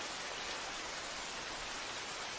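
Rain falls steadily in an anime scene, a soft, even hiss of water with no talking and no change in level throughout.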